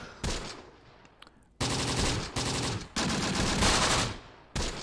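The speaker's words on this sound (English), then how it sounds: "they'd probably come under this SMG fire if I try to move them now" Submachine gun fire in the Close Combat: The Bloody First war game, set in Tunisia: loud sustained bursts of rapid automatic shots in several long volleys separated by brief pauses, with no talk over them.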